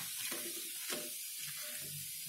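Tikhat puris being lifted out of hot frying oil in a kadhai with a slotted spoon, a constant loud sizzle of bubbling oil with soft scraping and clinks of the spoon on top.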